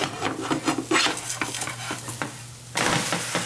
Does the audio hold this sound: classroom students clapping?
no